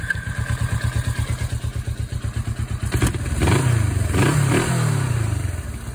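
Suzuki GS500 motorcycle engine running after a carburetor check with one carb port blocked off, a steady close idle thump that rises into a louder rev partway through, alone without talking.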